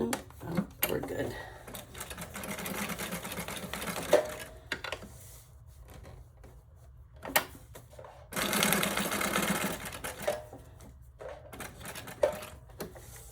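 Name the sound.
sewing machine stitching paper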